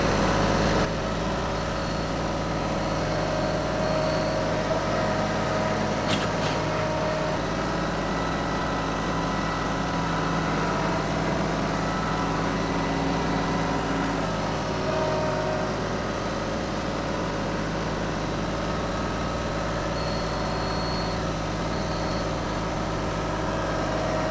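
A 25 horsepower machine engine runs steadily at a constant idle-like drone, a continuous mid-low hum with no breaks, fairly loud and close throughout.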